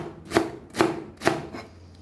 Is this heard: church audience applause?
no